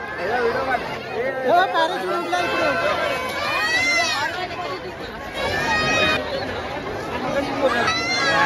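Dense crowd chatter fills the Mhasa Yatra night fair in Murbad, a steady loud babble of many voices close around with no pauses.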